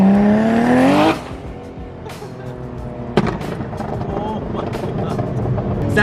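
Loud Porsche engine screaming up in pitch during a cruise in traffic, cut off after about a second, followed by quieter traffic rumble and a sharp knock.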